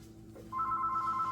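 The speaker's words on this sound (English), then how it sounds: "oops, telephone ringing." A telephone rings with a steady electronic trill that starts partway through and continues, over a low background hum; no talking.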